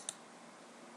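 A single crisp computer mouse click while downloading Adobe Photoshop CS6 on a PC, short and fairly close, followed by quiet room noise, with no talking.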